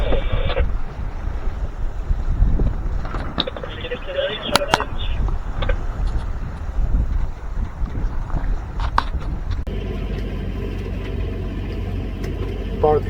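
A sailboat sails at 5 to 6 knots off the Quiberon coast near Port Haliguen, with steady wind rushing across the microphone and water noise underneath, loud and continuous, with some brief clatter.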